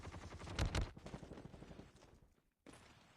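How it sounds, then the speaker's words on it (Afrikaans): Gunfire crackles in a video game as shots are fired at a player, a few sharp bursts early on followed by quieter scattered pops, faint overall and dropping out briefly before resuming. "skote wat nou op haar geskiet word"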